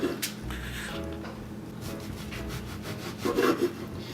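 A knife cuts through baguette into slices about a quarter inch thick, giving a rough sawing, rasping crunch that repeats in short strokes, close and moderately loud, building to a slightly louder crunchy cut near the end.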